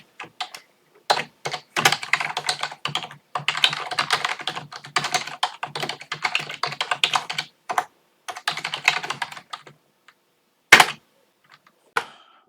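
Code being typed on a computer keyboard: rapid, irregular bursts of close key clicks and clacks, with brief pauses and a couple of sharper isolated taps near the end.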